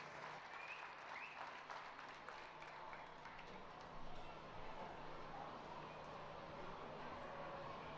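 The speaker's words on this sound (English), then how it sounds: "Let's have a big round of applause for all of our participants." Faint, distant applause rises from the crowd at a county youth fair steer show in a livestock arena, a soft, even patter of clapping that runs on steadily throughout.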